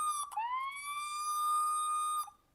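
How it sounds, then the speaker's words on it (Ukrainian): SOS alarm siren from a Samsung Galaxy Watch Ultra copy smartwatch, a single sustained electronic wail that rises quickly then holds a steady tone for about two seconds before cutting off, heard alone and fairly close. "Що це за сирена?"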